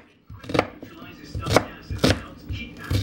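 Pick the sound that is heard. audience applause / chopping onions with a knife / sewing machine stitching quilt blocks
chopping onions with a knife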